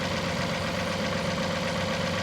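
A tractor engine idles steadily at close range, a continuous low rumble with a constant hum and no breaks over the short stretch, heard alone without talk.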